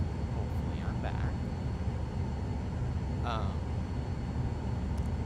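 Cirrus SF50 Vision Jet engine in the Flight FX flight simulator, a steady, dense jet roar that runs unbroken through the whole clip, with a few faint brief chirps on top.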